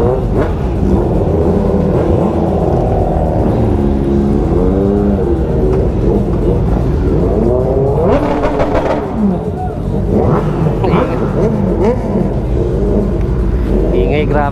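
A group of motorcycles on an anniversary ride revs and roars continuously close by, with engines rising and falling in pitch and several bikes overlapping; people talk under the engine noise.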